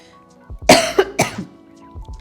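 A person coughs from capsaicin hanging in the air after a spicy lunch, two or three sharp, close coughs in quick succession, loud against a quiet room.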